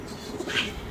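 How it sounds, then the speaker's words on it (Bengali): A male pigeon gives one short, soft coo on its own, with no other birds or voices around it. "এই কবুতরটা একা একা ডাকে"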